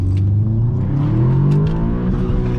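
A Stage 1 Ecotune Audi S3 held in one gear in manual mode revs up toward its limit, the engine note climbing steadily and loud from inside the cabin with no talk.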